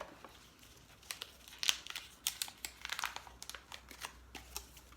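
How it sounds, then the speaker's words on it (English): Foil emergency space blanket crinkling and rustling in quick, irregular crackles as it is handled close by, faint overall with sharper bursts of crumpling. "Emergency blanket, space blanket, whatever you like to call those. It's those foil looking"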